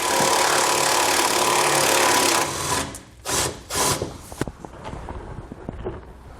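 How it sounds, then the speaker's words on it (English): Ratcheting socket wrench loosening the bolt holding a parking brake cable on a vehicle, a few short bursts of clicking after a stretch of steady hiss, close and fairly loud. "we'll need to remove the bolt here that's holding our parking brake cable in place. We'll use the same size socket to remove it."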